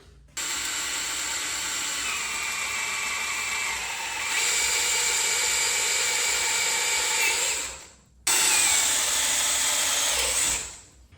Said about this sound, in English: I'm going to drill 1, 2, 3, 4 holes for these bolts to put in.